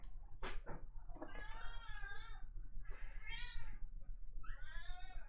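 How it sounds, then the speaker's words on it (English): A cat meows three times indoors, each call drawn-out and harmonic, close and clear over a steady low background hum, with a sharp knock or click just before the first meow. "I guess that is one of my cats, the Barker."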